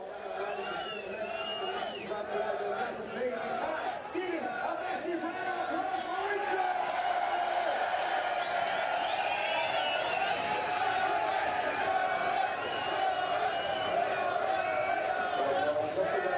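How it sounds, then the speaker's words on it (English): A large crowd roars and cheers at the Summernats car festival in Australia, a sustained, distant wash of voices and whoops, with commentators talking over it throughout. "Listen to this crowd."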